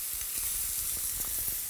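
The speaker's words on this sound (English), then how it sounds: "Grill the kalbi-kui, the butterflied beef ribs, until sizzling and golden brown on the bottom." Butterflied beef ribs, kalbi-kui, sizzle on a grill with a steady bright hiss and scattered soft pops and crackles, close and continuous with no voices.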